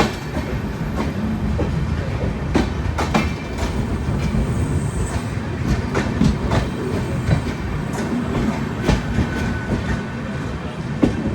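The Netravati Express sleeper train runs along the Konkan line with a continuous rolling rumble and a rhythmic clickety-clack of wheels over rail joints, heard close from inside the coach without speech.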